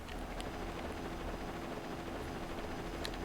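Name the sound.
helicopter flying in the video game Mega Man Zero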